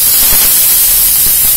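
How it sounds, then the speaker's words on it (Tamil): Half a spoon of ghee sizzles in a hot pan, ready for frying fresh neem flowers, giving a steady, close, even hiss throughout. "ஒரு 1/2 ஸ்பூன் நெய் விட்டுருக்கேப்பா."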